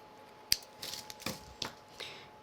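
Craft paper strips being trimmed with scissors: one sharp click, then several short, crisp snips at an uneven pace, close by and fairly quiet.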